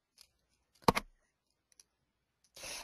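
A single crisp computer mouse click on Apply in embroidery software, sharp and close in near silence, followed by a soft rush of noise at the end.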